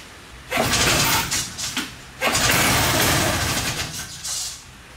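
Old hovercraft 277 engine, running without its original exhaust, cranks and catches in loud bursts, then runs steadily before fading near the end.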